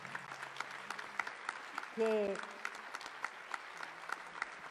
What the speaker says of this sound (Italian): vorrei che tutti facessero un applauso